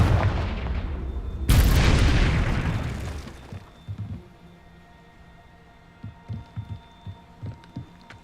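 Explosions from the Confringo fire spell in Hogwarts Legacy on PS5: a sudden loud, broadband blast that rumbles and fades over about two seconds, followed by a string of short, low thumping impacts.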